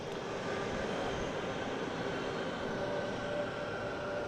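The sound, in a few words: American Airlines Boeing 777 jet airliner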